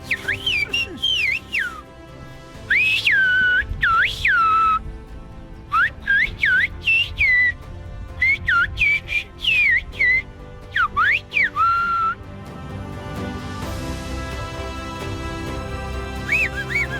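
Silbo, the whistled language of Tenerife, in long shrill bursts of sliding, rising and falling whistles, separated by short gaps and carried on loud and close over faint background noise.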